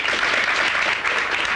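A studio audience applauds a contestant being introduced on a comedy dating show, producing steady, dense, loud clapping that runs throughout without a break.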